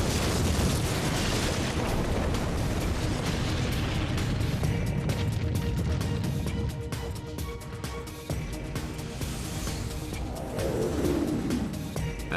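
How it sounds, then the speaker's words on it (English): A deep, sustained rumble and roar of the Kobe earthquake shaking the ground and buildings, loud and continuous throughout, with rattling and crashing mixed in and a sweeping tone near the end. "the earth begins to shake"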